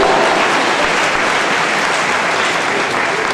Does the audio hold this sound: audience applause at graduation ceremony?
yes